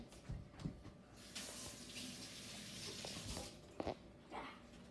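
Tap water runs steadily into a sink while something is rinsed under it, a continuous splashing hiss with a few brief knocks and clatters.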